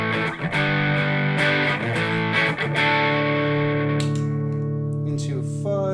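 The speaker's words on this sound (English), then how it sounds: "So this is my first stage gain, kind of a dirty sound." An electric guitar plays through a first-stage gain pedal on a pedalboard, giving a dirty, distorted tone with sustained chords and picked notes that ring out loudly and decay toward the end.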